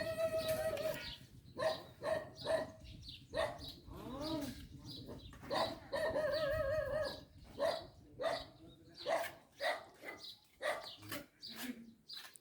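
A dog barks at a stranger in repeated, sharp barks close by, coming in uneven bursts with short pauses and some birds faintly in the background.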